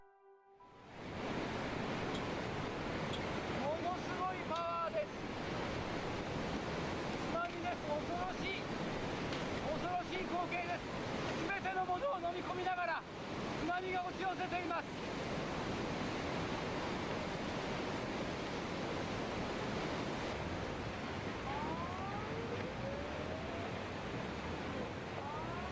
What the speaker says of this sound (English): the incredible force of these massive waves that struck the Japanese coast